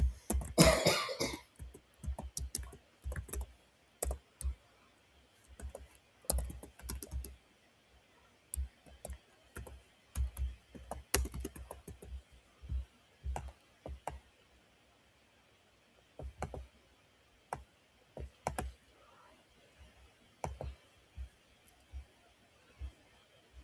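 Sparse clicks of typing on a computer keyboard come in scattered, irregular bursts with long quiet gaps. A brief louder noise is heard at the start, and no one speaks.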